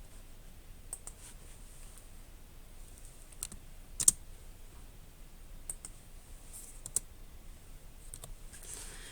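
A computer mouse clicking while text is cut and dragged in a word processor: a handful of faint, sharp, isolated clicks spaced irregularly over a quiet room hush, with no speech.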